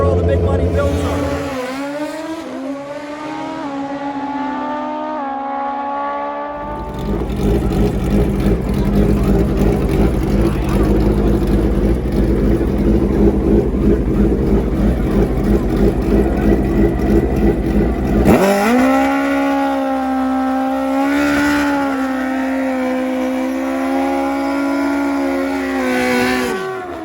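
Pro stock and grudge drag racing motorcycles at a high-stakes West Coast drag strip, engines revving hard and then screaming through long, loud full-throttle runs, with quieter idling between passes.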